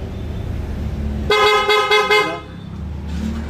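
An aftermarket PIAA horn fitted to a Hyundai Smash car blares in one sustained honk with a couple of pulses, loud and close, between stretches of quiet engine idling.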